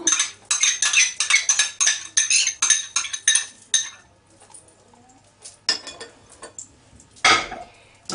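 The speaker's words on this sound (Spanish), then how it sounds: "Y seguimos batiendo" Eggs and yogurt for apple muffin batter being whisked in a bowl, a fast run of rhythmic clinking strokes that stops, then a few scattered clinks and taps after a pause.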